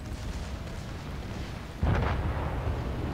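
Naval gunfire and a shell explosion in the battleship game World of Warships, a single heavy, deep boom breaking out over a low, steady rumble of background engine noise.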